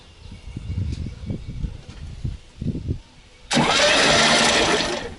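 A 1975 Volkswagen Beetle engine, recently pressurized through the oil radiator after long disuse, cranks with rhythmic starter bursts and pauses, then roars up into a loud steady run close by.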